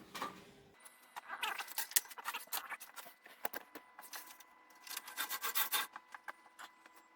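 A chef knife handle is sanded with fresh 80-grit abrasive, making close, quiet, irregular rasping strokes in uneven bursts with short pauses between them.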